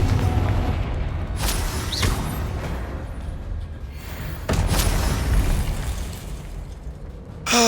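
Confringo spell blasts in the Hogwarts Legacy game land as a few sharp booming explosions spaced seconds apart over a constant rumbling action backdrop, one burst near the start, another midway and a final hit at the end.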